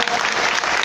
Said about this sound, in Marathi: तुम्ही जर उचलणार असला तर टाळ्या वाजवा